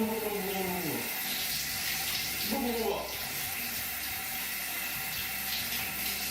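A shower runs with a continuous hissing spray of water, steady and moderately close, as voices talk briefly over it near the start.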